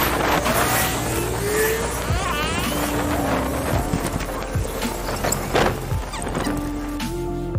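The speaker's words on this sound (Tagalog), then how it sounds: "Ang ingay ng mga sasakyan." Busy roadside traffic, with a continuous loud rumble of passing vehicles, engine drones, and horse hooves clip-clopping throughout, close by and dense.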